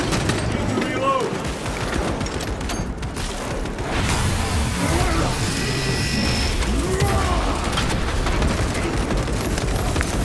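Weapon reload in the Warhammer 40,000: Space Marine 2 video game: mechanical clicks and ratcheting clacks under a dense, loud wash of battle noise and distant gunfire.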